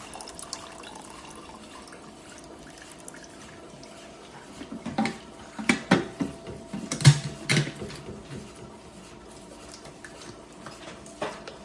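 Water drains out of a Bravo pasteurizer with built-in ice cream maker, made in Italy, after its front panel is pressed open; a low background hum gives way to a run of splashing, dripping bursts midway, then quieter trickles.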